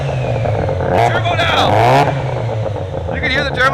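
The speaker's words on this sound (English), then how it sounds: "You can hear the turbo now." A turbocharged rotary-engined car revs close by, its rising and falling whine sweeping upward, while someone talks loudly over the engine.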